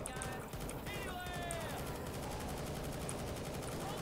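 Rapid gunfire in the zombie shooter Left 4 Dead 2 during a tense fight with a Tank, a steady stream of shots under excited talk from players.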